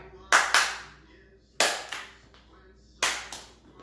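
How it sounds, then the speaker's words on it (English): Hands clapping in three groups of two sharp, close claps each, spaced by short pauses, in a quiet room during a seniors' fitness exercise. "Or it's just one simple clap."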